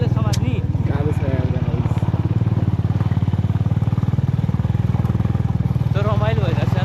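A motorcycle engine runs steadily throughout a ride on the road to Ama Yangri in monsoon weather, a loud continuous drone with voices talking and calling over it.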